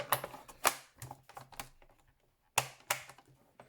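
Scissors or a blade cutting card along score lines, a series of close, sharp snipping and crunching strokes in irregular bursts with a short pause midway.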